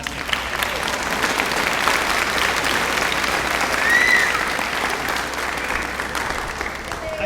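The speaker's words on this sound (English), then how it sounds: "one more round of applause for all the jazz bands." Audience at a summer music camp finale concert applauds the jazz bands, a steady dense round of clapping that swells slightly midway and holds to the end.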